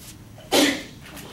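A single sharp sneeze bursts out in a quiet lecture room, brief and fairly close, then fades into background hush.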